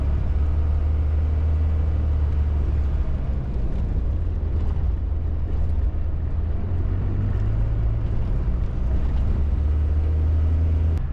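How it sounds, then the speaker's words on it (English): A first-generation crew cab truck's engine runs with a deep, continuous low rumble, held steady under throttle while the oil pressure gauge dips, close and loud with no talk. "as soon as I start giving it throttle, it dips"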